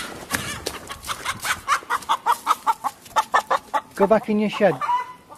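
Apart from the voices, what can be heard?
chickens clucking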